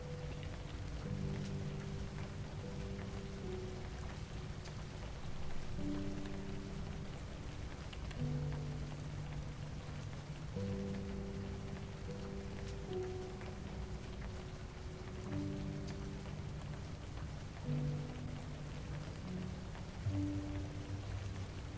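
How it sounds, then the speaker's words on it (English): Steady rain from the video game A Story Beside falls continuously, a soft even hiss under sustained melodic game music throughout. "the rain is like really calming"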